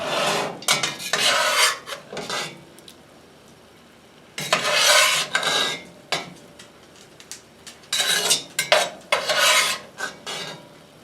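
A utensil scraping cooked beef barley soup out of a cast iron pot, with repeated harsh rasping strokes in bursts separated by short pauses, close and fairly loud.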